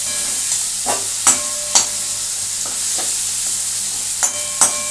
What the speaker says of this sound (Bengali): এটাকে আমার ভালো করে মশলাটার মধ্যে একটু মাখিয়ে নিচ্ছি